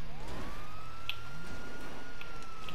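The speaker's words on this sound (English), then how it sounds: "Turn off the sirens." A police siren in the video game GTA wails steadily, sweeping up and down in pitch, over a constant engine hum with a few faint clicks.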